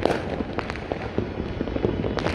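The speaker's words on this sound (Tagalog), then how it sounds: "madaming fireworks. Saka dami ng usok dito sa Makati." A New Year fireworks display in Makati crackles and pops in a dense, continuous barrage of loud nearby bursts, with no pauses and no talking.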